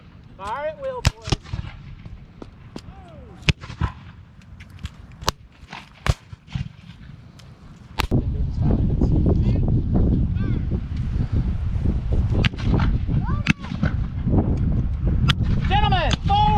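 Civil War reenactors fire muskets at will outdoors under a stormy tornado watch, scattered sharp cracks in irregular succession, some near and some distant, over heavy wind noise on the microphone and shouted voices.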